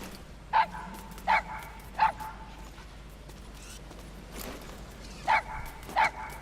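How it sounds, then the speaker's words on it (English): A puppy barks in Metal Gear Solid V: The Phantom Pain at the game's Mother Base, five short yips in two groups over steady low background hum, clear and close. "thanks for saving that cute little puppy"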